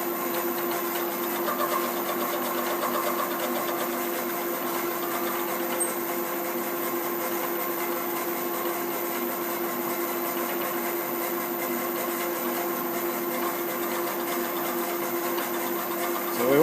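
A Bridgeport milling machine cuts steel while machining R8 tooling, giving a steady, continuous mechanical whine with a constant motor hum that stays even throughout, close by and with no talking.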